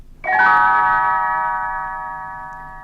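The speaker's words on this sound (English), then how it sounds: "it is time to turn the page when Tinker Bell rings her little bells, like this." A single bright chime rings out clearly and lingers, its shimmering tone slowly fading over a few seconds.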